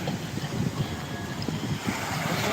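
Choppy sea waves at Balogo, Pasacao, a dense continuous wash of surf and wind noise that is steady and fairly close, with no talking.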